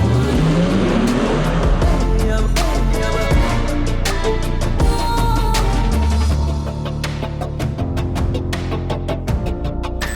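An electric Porsche Macan Turbo accelerates hard, a loud steady drive whine layered with music, lasting throughout with a slight drop in level partway.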